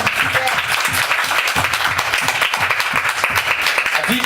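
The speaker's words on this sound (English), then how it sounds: "Can we give Jesus a hand clap?" A church congregation clapping in a rhythmic, steady beat during a sermon, loud and continuous with some voices mixed in beneath.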